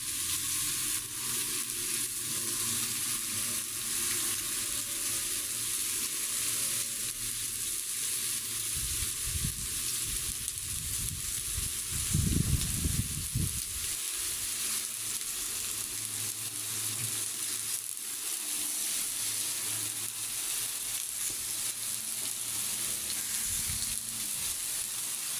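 Meat grilling on a sac griddle at an ocakbaşı-style setup, giving a steady, close sizzle and frying hiss throughout, with a louder crackling burst partway through and no talking.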